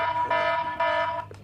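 An Android anti-touch phone alarm app blares a loud, continuous electronic siren with steady harmonic tones that swell in bursts and pulse through a short stretch, with no voices.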